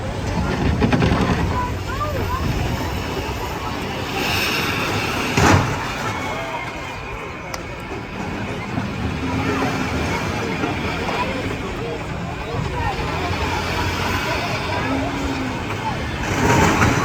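School buses crash and grind in a Wreckfest demolition derby at Merritville Speedway, with roaring engines, scattered metallic bangs and a continuous churning din throughout.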